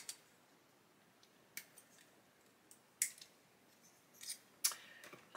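Plastic parts of a 1/35 Meng Chieftain Mk10 model kit being snipped off the sprue, giving several crisp, close cutter clicks at irregular intervals in otherwise quiet surroundings.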